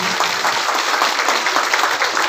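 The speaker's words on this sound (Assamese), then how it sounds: "সকলোৱে হাত চাপৰি।" Audience applause at a political gathering in Assam, steady dense clapping from a crowd filling the whole stretch at an even loudness, with no voices standing out.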